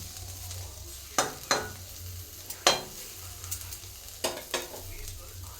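Potato and cauliflower frying in a pan on low heat with little oil, a soft continuous sizzle broken by several sharp scraping stirs of a spatula against the pan.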